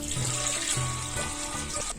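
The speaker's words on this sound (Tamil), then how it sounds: "அதுக்கு வந்து தண்ணி ஊத்தி கொதிக்க விட்டுடலாம்" Water runs and splashes steadily into a cooking pot, a continuous gushing pour close by with no talking.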